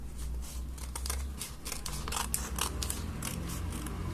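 Scissors snip through paper while cutting out pieces for a paper Billy puppet mask from Saw, a run of close, crisp cuts in an irregular rhythm over a steady low background hum.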